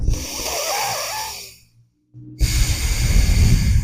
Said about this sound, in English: literally breathing through the front like this